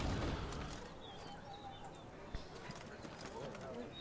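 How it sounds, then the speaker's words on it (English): A horse gallops in Thronebreaker: The Witcher Tales with rapid clip-clop hoofbeats, a brief thud and faint whinny, under game music and someone talking. "you just get fucking run over by the horse"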